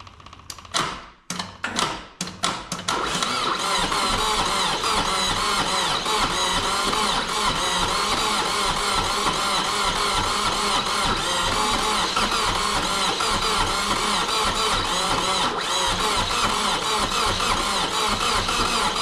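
A Subaru XT engine cranks over with a few uneven bursts, then catches and runs steadily at a loud, continuous rumble on its first start in 16 years, fed by an inline fuel pump from a separate tank.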